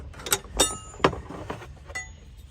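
Cooling fan on a Mercedes-Benz Sprinter van being spun off by hand, with a few bright metallic clinks and rattles spaced irregularly, close and fairly loud over a low background rumble.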